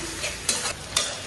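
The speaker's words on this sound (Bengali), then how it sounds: "তো পেঁয়াজটা ভাজা হয়ে গেছে," Onions frying in oil hiss steadily at close range while three quick spatula strokes scrape the pan in an even rhythm over a brief moment.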